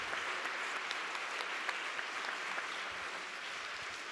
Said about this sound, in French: nous pouvons applaudir les 3 conférenciers, les 3 panélistes